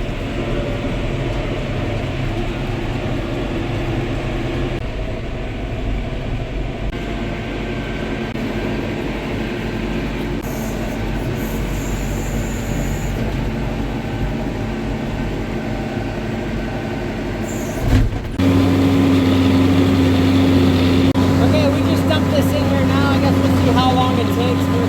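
A feed mixer on a 91-cow tie-stall dairy farm runs with a steady, loud mechanical drone throughout, shifting to a deeper, heavier hum near the end.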